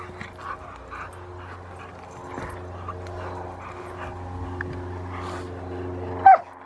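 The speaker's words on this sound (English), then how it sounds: "She's quite a big dog." A 13-month-old female Rottweiler gives short barks and whimpers during protection training at a Rottweiler club, sounding intermittent and moderately close over a quiet background.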